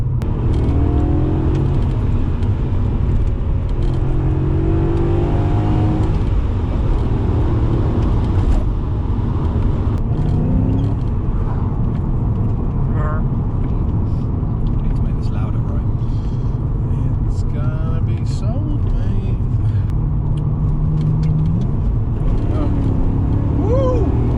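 E39 BMW 535i with a V8 and manual gearbox driving on the road, a loud continuous engine drone and rumble with tire and road noise, someone talking over it throughout.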